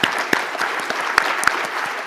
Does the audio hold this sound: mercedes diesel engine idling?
no